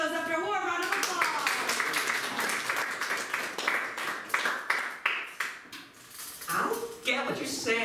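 Applause from an improv comedy show audience, a burst of clapping that thins into distinct, uneven individual claps before fading as voices start talking.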